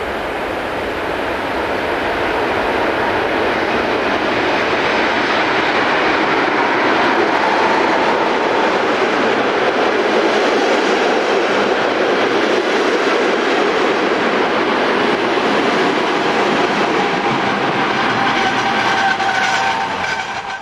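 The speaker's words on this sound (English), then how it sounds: "141-215 arrives at Graben-Neudorf with a train for Mannheim" A Class 141 electric locomotive hauling a passenger train rolls into Graben-Neudorf station loudly and steadily, with a continuous electric hum and wheel rumble that builds and then holds, with some faint clicking.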